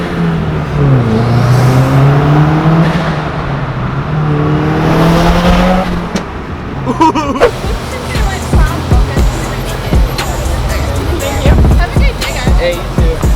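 Subaru WRX accelerating through a tunnel, a loud close engine rising in pitch through several gear pulls, with echoing reverberant roar and brief shouting voices afterward.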